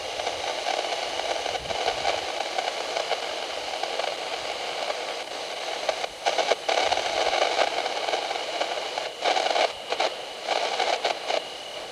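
Radio white noise static hisses continuously for the whole stretch, a broad steady rush with occasional crackles and brief dips and surges in level, with no voices.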